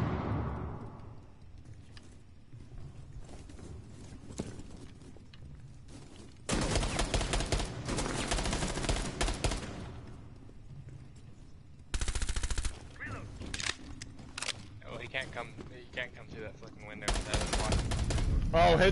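Bursts of gunfire in a multiplayer shooter video game, loud clusters of rapid shots separated by quieter stretches where players talk.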